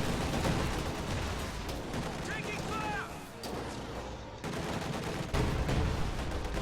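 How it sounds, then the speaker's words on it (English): Field gun firing at range in the Company of Heroes video game, heavy booming artillery blasts and gunfire crackling through a dense, continuous battle din, with a brief lull midway before the barrage resumes loudly. "Field gun firing on it from range."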